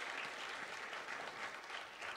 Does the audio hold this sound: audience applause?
yes